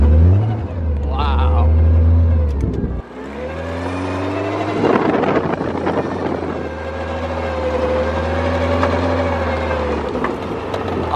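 A 500 hp Caterham 620R engine drones and revs close by, a loud low rumble with a sudden dip, while a person talks over it.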